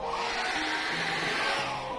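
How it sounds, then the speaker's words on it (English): A hair dryer drying acrylic paint makes continuous whirring blower noise, steady and fairly close, with a faint motor hum underneath and no voices. "I'm going to get a hairdryer on that, and I'm going to dry that until it's dried"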